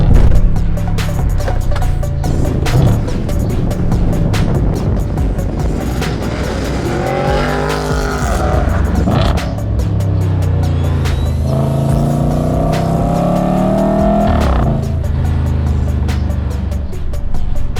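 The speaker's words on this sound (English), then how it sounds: "It's just so much fun to row through the gears in this thing." Up close, an Audi RS5 4.2 FSI V8 from the 2013 model year revs hard, rising and dropping in pitch through repeated gear changes, loud and continuous with no talking.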